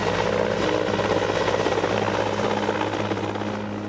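A helicopter flies with a loud, continuous rotor and engine drone that stays close and steady throughout, easing slightly at the end, with no talking.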